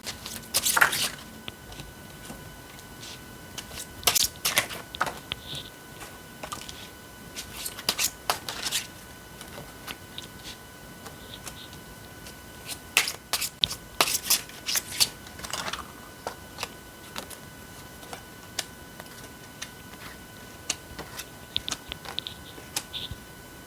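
Tarot cards being shuffled by hand produce quiet, intermittent riffling and soft clicking in scattered clusters, with crisp slaps standing out over a hushed background and no talking.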